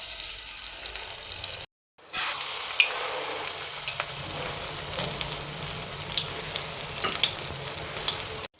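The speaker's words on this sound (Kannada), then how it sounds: "ಬಾಣಲೆಯಲ್ಲಿ ಎಣ್ಣೆ ಬಿಸಿ ಇಟ್ಟಿದ್ದೇನೆ. ಇದಕ್ಕೆ ಇವಾಗ ಒಂದೊಂದಾಗಿ ನಾವು ಹಾಕ್ತಾ ಹೋಗೋಣ." Paneer balls are dropped into hot oil in a home kitchen pan and fry with a steady, crackling sizzle. It runs close and continuous, broken by one brief silent gap near the start.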